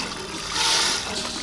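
Fresh water pours steadily over wheat grains to wash them for kurdai, a continuous rushing, splashing stream that swells briefly in the middle, heard alone without talk.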